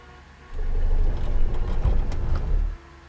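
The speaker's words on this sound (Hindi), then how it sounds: "ड्राइवर, गाड़ी घुमा दीजिए।" Car engine rumbling as the vehicle turns around, a steady low drone that starts abruptly, holds for about two seconds at a close, fairly loud level, then cuts off, with no voices.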